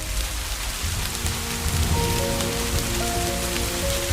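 Rain falling steadily during a cricket match, a dense, even hiss of drops on surfaces, with faint tonal background sounds rising underneath.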